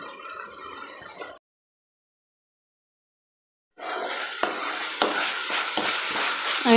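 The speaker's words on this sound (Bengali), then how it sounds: "আমি মশলাটা ভালো মতো কষিয়ে নেব।" Ground chili, coriander and cumin powders stir-frying in a pan for spiced eggplant, a steady sizzle with scraping stirs, cut by a stretch of silence before the frying returns louder and close.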